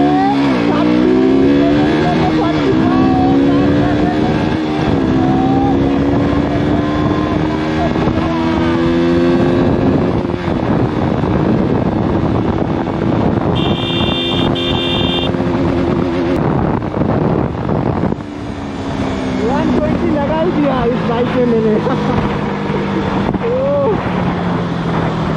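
A KTM RC200 motorcycle ridden in first gear, its engine loud and close with repeated revving that climbs and drops in pitch, wind rushing across the microphone and a voice speaking now and then.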